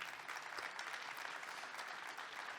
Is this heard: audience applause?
yes